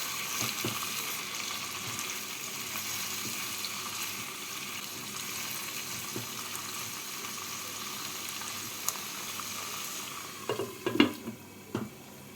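Vegetables for fried rice, salted, sizzle gently in a covered pan over a low gas flame, a steady even hiss that runs on alone until a few clanks and knocks near the end.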